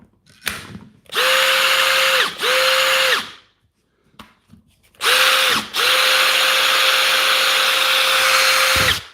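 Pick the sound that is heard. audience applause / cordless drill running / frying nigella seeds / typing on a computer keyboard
cordless drill running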